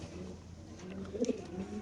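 A BRPFC racer pigeon cooing softly in a short, low burble, quiet and close, with a faint background murmur.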